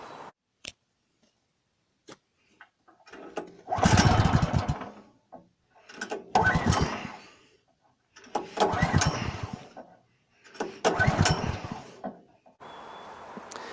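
Four rough bursts of a small sawmill engine sputter briefly after pull-cord tugs, separated by quiet gaps, never catching into a steady run.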